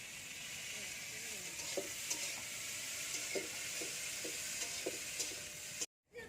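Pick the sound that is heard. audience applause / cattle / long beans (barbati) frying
long beans (barbati) frying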